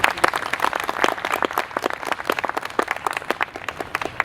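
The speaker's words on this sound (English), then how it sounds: "So a big round of applause for all these wonderful volunteers" Applause from an audience at a talk on the Raj years of Rawalpindi, honouring volunteers; a close, uneven patter of individual claps from a modest crowd, steady throughout.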